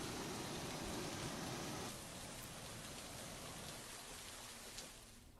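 Heavy rain pours down steadily in a dense, continuous wash of drops striking surfaces nearby, slightly easing in intensity partway through, with no voices.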